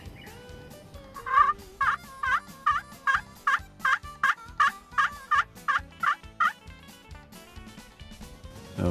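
A striker scraped across a turkey call at a 45-degree angle produces a rapid run of about fifteen clucking yelps, imitating a wild turkey. The calls are close and distinct over a quiet outdoor background.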